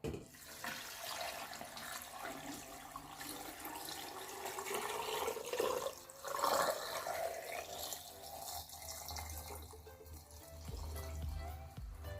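Plain water poured into a jar of salted chicken eggs, a steady splashing, gurgling stream that rises in pitch as the container fills, close and fairly loud throughout.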